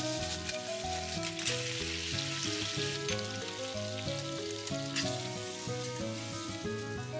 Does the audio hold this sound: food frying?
yes